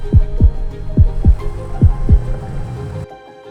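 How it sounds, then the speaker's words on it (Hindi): A slow, deep heartbeat thumps in close, steady pairs, booming and low, then stops abruptly. "मुझे अपनी धड़कन अपने कानों तक सुनाई दे"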